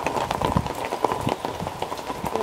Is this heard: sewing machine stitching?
no